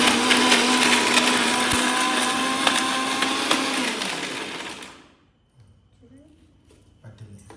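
A kitchen mixer grinder whirs loud and steady, grinding ripe red chilli chutney for about five seconds, then cuts off abruptly, leaving faint rattles and low room sounds.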